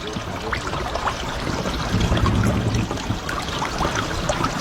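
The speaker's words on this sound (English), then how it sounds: "I'll show you this as the water's coming in" Water gushing and trickling steadily into a floating car as it fills and sinks, a continuous loud wash of flowing liquid close by.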